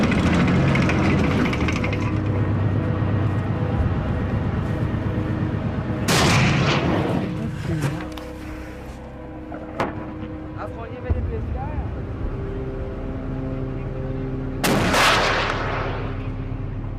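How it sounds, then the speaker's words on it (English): Heavy gunfire booms in two loud blasts several seconds apart over a constant rumbling background, with people talking throughout. "Guns."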